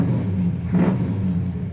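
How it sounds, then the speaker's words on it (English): A 1970 Chevrolet El Camino engine catches and settles into a low, steady rumble, with a brief louder surge near the middle as it fires up, close and clear with no talking. "Turn the key, it fires right up."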